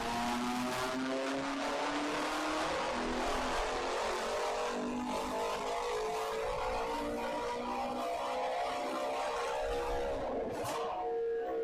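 A car engine revs hard and loud through a hard run, its tone climbing steadily as it strains near the listener, then a brief sharp burst near the end.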